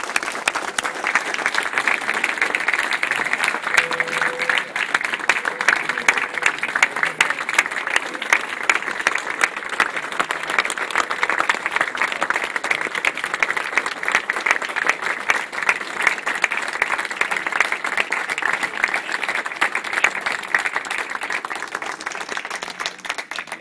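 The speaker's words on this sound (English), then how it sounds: "Please continue standing and applauding." A large audience keeps applauding after a mayor's speech, loud continuous clapping with a few faint voices mixed in, sustained and even for over twenty seconds.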